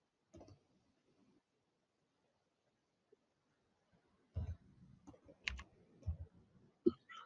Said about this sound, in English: He's clicking on something. He's typing.